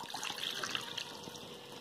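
Hot water poured into a bowl while making an eggless Christmas dry fruit atta cake, a steady continuous splashing pour lasting throughout, close and fairly soft, with no talking.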